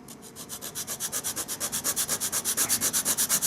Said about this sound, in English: Needs just a bit of sanding yet.